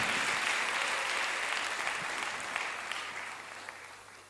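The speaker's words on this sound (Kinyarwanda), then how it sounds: "Tuyikomera amashyi ko ducunguye tukiri mu nda za mama." A church congregation applauds in a dense, even wash of clapping that slowly fades over about four seconds.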